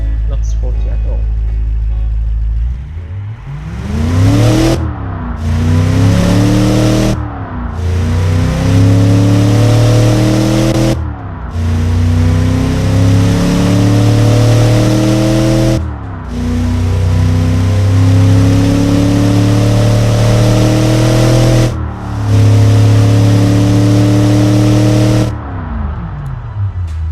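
A Windsor 255 V8 engine in the Automation car game, revved repeatedly through a series of rising pitch sweeps that drop back between gear changes, loud and close, with no one talking.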